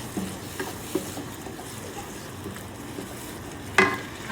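Tomatoes with rosemary fry in a pan for a low-carb chicken adobo, a steady soft sizzle with a few sharp clinks of a utensil against the pan, including one louder knock near the end.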